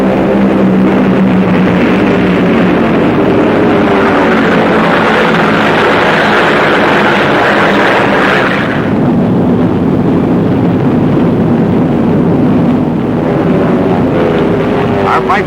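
Massed piston engines of World War II fighter planes, including Focke-Wulfs and Me-109s, roar loud and continuous through a dense broadband drone, easing slightly toward the end.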